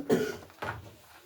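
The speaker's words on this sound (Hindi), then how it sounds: "खांसी तो रहा है" Two short coughs, one after another with a brief pause between, fairly close and moderately loud.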